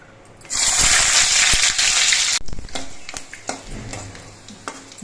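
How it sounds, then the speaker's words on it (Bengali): Cashew pieces frying in white oil for a vegetarian potol (pointed gourd) dish: a loud, bright sizzle bursts up and holds for about two seconds, then settles into quieter frying with scattered utensil taps and stirring clicks. "এবার সাদা তেলের মধ্যে এই কাজুর টুকরোগুলো দিয়ে ভেজে নিচ্ছি"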